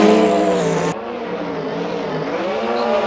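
Rockstar-liveried BMW drift car at a Drift Corner Grand Prix event at Hockenheim, its engine revving hard and loud close by, a steady high-pitched roar that drops abruptly then climbs again under faint tire noise.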